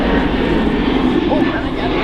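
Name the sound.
Airbus A320neo aircraft flying at Manchester Airport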